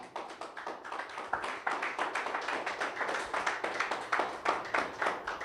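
A church congregation claps steadily in applause after a call to honor Jesus, a dense, continuous patter of many hands at moderate distance with no talk over it.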